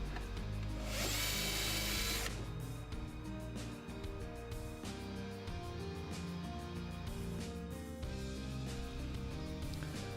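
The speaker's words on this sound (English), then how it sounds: "I drilled 2 holes to act as locating pins" A power drill bores locating holes into a wooden electric guitar body, whining loudly in bursts with brief pauses and bit chatter, the motor pitch shifting as it cuts, close and without any voices.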